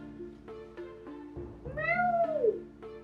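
A kitten gives one rising and falling meow near the middle, close and clear, over a background of other indoor sounds.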